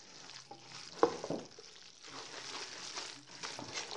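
Instant spaghetti, rinsed and drained, being stirred in a frying pan with a broken handle, giving soft scraping and sizzling with one sharper clack near the start, steady and close, no talking.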